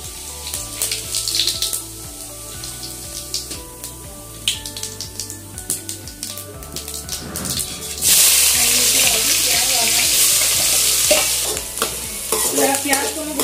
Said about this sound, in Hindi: मेरा प्याज को मैं ब्राउन कर दूंगी,